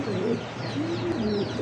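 A male Pomeranian pouter pigeon coos in low, repeated rolling calls close by, with faint background noise and no talking.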